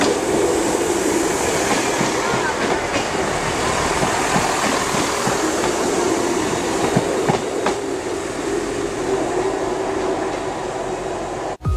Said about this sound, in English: Here we have 158816 to Sheffield.